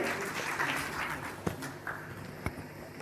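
An audience at a swachhta award ceremony in Jharkhand applauds to welcome the health minister, producing a dense, steady wash of clapping with a few sharper knocks mixed in.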